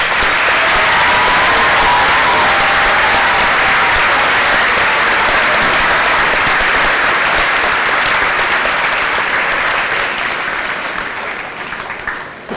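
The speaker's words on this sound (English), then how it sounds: "You may now applaud." A school assembly audience applauds loudly and steadily, a dense, sustained clapping that fades out over the last couple of seconds.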